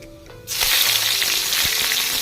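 Curry leaves dropped into hot coconut oil for a lentil curry tempering set off a sudden loud, close sizzle that keeps crackling steadily.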